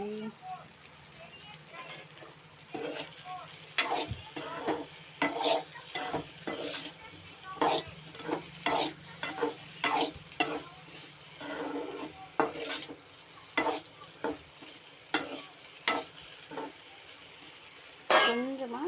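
Okra being stir-fried in oil in a pan: a soft, steady sizzle with repeated quick scraping strokes from a spatula, under intermittent talking.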